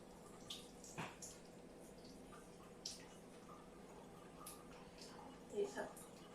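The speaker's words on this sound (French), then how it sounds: "je me rince les doigts" Running tap water pours steadily while fingers are rinsed under it, with a few soft splashes and drips in a quiet indoor setting.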